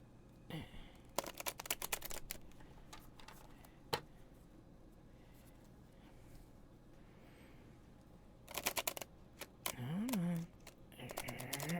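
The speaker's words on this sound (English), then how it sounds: "Let me do a bit of a shuffle here." A new, stiff deck of playing cards being shuffled, heard as two brief bursts of dense riffling clicks, fairly close and quiet, separated by a stretch of near silence, with a soft voiced sound near the end.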